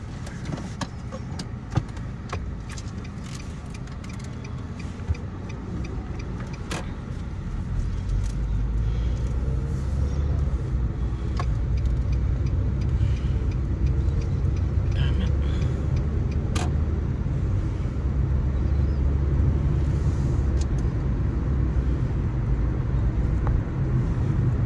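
A car pulls out of a parking space during driving practice, its engine rumble low and steady, growing louder and fuller after the first few seconds as it moves off, with scattered clicks inside the cabin.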